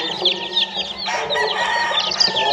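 Chicks and fowl on a gamefowl farm raising Mel Sims Black bloodline birds, giving a steady run of overlapping high peeps and chirps, fairly close and continuous, with faint clucking underneath.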